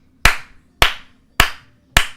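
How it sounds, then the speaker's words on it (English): A single person claps hands four times at a steady, unhurried pace during a live stream, each clap sharp and close with a short decay, the claps evenly spaced and nothing else happening around them. "I'm the only one clapping like, what are you doing?"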